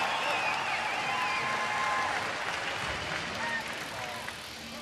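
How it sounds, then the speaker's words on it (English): A crowd roars and cheers at the X Games Austin BMX Park final, a broad, sustained wash of distant noise under the commentator's voice. "So you can hear the roar of the crowd there."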